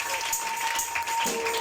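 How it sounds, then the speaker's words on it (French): Congregation applauding during a church service, a dense steady wash of clapping from many people, close and loud for its short duration. "Acclamons pour la parole."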